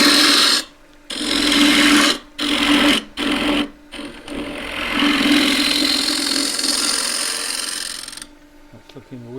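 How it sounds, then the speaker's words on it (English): A half-inch spindle gouge cuts a 40-year-old maple bowl on a lathe, a loud steady scraping hiss broken by several short pauses before it fades, with a brief voice near the end. "So 1/2 inch spindle gouge"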